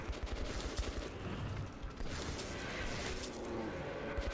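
Dense, rapid gunfire in the shooter video game Metro 2033 Redux rattles on without pause, overlapping bursts of shots with clanking mechanical noise, loud and close throughout.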